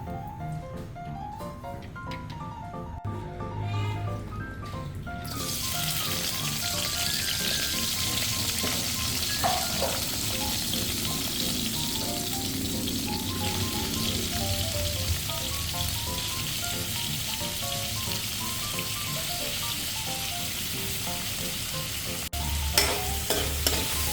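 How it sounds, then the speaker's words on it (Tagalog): Ingredients for sinigang fish soup with lapu-lapu are sautéed in a pan, a loud continuous sizzle with stirring scrapes that begins after a few seconds of quieter kitchen sounds and runs on steadily. "kahit nagsasabaw ako, sa mga hindi pa nakakalam, ginigisa ko po"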